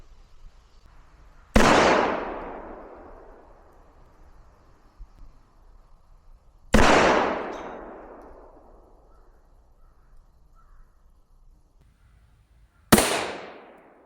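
Three sharp 9mm pistol shots at an outdoor target range, from a Glock 19 and a Canik TP9, each a loud crack with a long decaying echo, spaced roughly five to six seconds apart.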